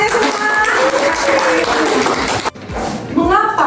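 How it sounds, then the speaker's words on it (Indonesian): Applause from an audience at a talk on building resilience, a dense wash of clapping that fills the whole stretch, dips briefly near the end, then swells again, with voices faintly mixed in. "Oke, tepuk tangannya semua."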